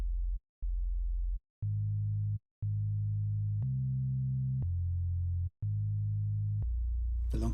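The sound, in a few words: synth bass arpeggiator in half notes, shorter gate, Ableton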